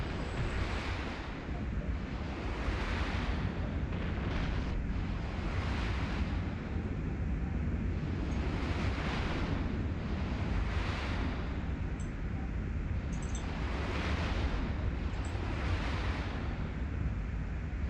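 Ship weapons firing at an NPC target in a space video game, a series of repeated broadband bursts roughly every two seconds over a steady loud rumbling bed, with no talking.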